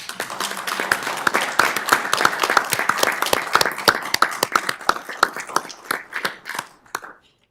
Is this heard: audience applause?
yes